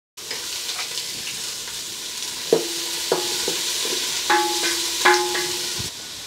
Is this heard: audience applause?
no